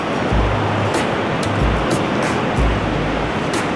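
Sea surf at Ladder Beach, Saipan, roaring steadily and loudly with strong wind buffeting the microphone, giving a constant broadband rush with deep rumbling gusts.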